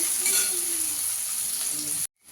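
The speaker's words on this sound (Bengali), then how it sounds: "পেঁয়াজটাকে একটু লাল করে ভেজে নিতে হবে।" Chopped onions frying in oil make a dense, steady hiss that stays close and even for about two seconds before cutting off abruptly, with no talking over it.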